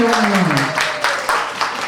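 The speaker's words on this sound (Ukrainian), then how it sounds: "А ви оплески давайте зараз." Audience applause breaks out at a jubilee celebration in Ivano-Frankivsk, a dense, steady wash of clapping with a few louder bursts, mixed with a voice or singing at the start.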